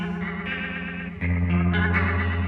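Sustained electric guitar chord through a rotary-speaker effect whose rate is controlled by an expression pedal, the swirling, warbling modulation speeding up partway through, played alone and fairly loud.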